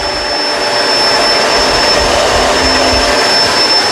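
A Kenmore Crossover Ultra vacuum cleaner runs steadily at close range, giving a loud, continuous whooshing roar with a thin high whine on top and no speech.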